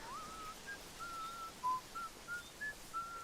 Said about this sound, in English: Tyrion whistles some Beethoven to pass the time and attract some savages